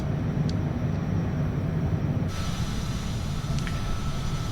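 A jet airliner climbs out on autopilot after takeoff from Jeddah, its engine roar a steady low rumble heard from inside the cabin, loud and unbroken throughout.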